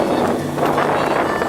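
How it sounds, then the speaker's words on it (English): A sailboat's sail flaps and rattles in strong wind on the Gulf of Mexico, a steady loud buffeting mixed with heavy wind noise on the microphone and no clear separate beats. "And what you hear is not thunder, that's the sail."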